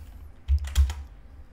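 Keys clatter on a computer keyboard in two quick, close bursts of typing. Quiet background surrounds them, and no one speaks.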